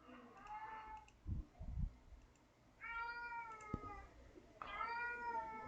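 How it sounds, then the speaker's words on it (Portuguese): Domestic cat meows several times, quiet and fairly close, with drawn-out rising calls separated by soft thumps and clicks, as if from a nearby room. "Tem um gato aqui, né?"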